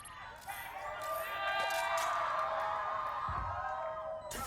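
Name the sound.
crowd cheering at Valorant esports event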